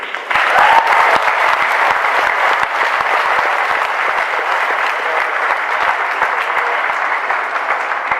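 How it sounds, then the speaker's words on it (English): Graduates applaud at a high school graduation ceremony, a loud, sustained, even roar of many hands clapping in a large hall, with a few sharper individual claps standing out. "So graduates, a round of applause for our friends in grad 2013"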